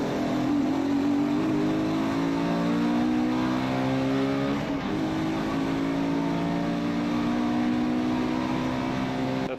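A high-revving 2008 BMW M3 (E92) engine screams loudly and continuously, its pitch climbing and holding near the top of its roughly 8,700 RPM rev range.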